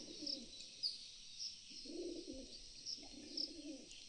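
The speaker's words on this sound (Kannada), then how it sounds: "ಪಾರಿವಾಳ ತಿನ್ಸೋದು ರೀತಿ ಈ ಥರ ನೋಡ್ರಿ." Pigeons coo in soft repeated low calls while being fed, faint and fairly close, under a high steady insect-like whine.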